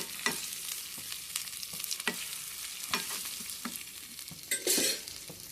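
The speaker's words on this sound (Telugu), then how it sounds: "అల్లం ఎల్లిగడ్డ పేస్ట్ వేసేసేయండి. మొత్తం బాగా కలుసుకోండి." Ginger-garlic paste fries in a pan with oil and onion paste while a spoon stirs it. Light sizzling runs under sharp, intermittent scraping strokes that sound close.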